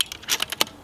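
A Savage 10FP bolt-action rifle ejects a spent .308 Winchester casing, heard as a quick cluster of sharp metallic clicks and clinks lasting under a second, close and without talk.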